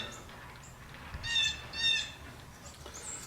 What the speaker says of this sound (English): Ah, shut up, you bird.